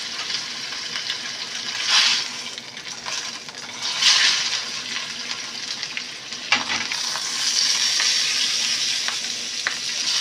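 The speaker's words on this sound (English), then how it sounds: "We're just giving it a nice hot sear" Pork loin pinwheels searing in a hot pan make a loud, close, continuous sizzle that swells in bursts as the meat is moved and flipped, with occasional clinks of a utensil against the pan and no talk.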